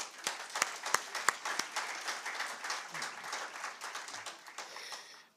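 Applause from delegates at a summit closing ceremony, a crowd clapping with sharp individual claps standing out at first, then blending into a softer wash that fades near the end.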